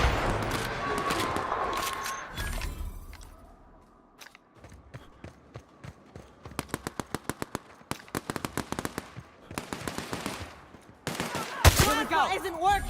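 Sharp rifle shots in the video game The Outer Worlds, a scatter of separate cracks and quick bursts coming in irregular clusters, with a voice talking briefly near the start.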